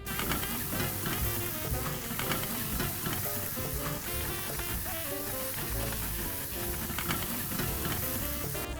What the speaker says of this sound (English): we fried in the garlic and onion for about 2 minutes